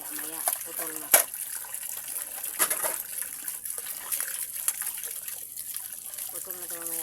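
Tap water runs steadily while dishes are washed at a sink. The hiss is continuous, with occasional clinks and splashes, and a person talks over it throughout.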